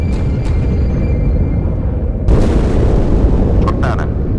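An explosion in the video game Halo 2 bursts out midway as a sudden loud, broad blast, then rolls on as a sustained rumble over constant game noise.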